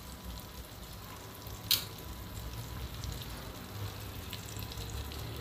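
Mushrooms frying in a pan for butter garlic mushrooms, a constant soft sizzle with one brief sharp clink early on and no talking.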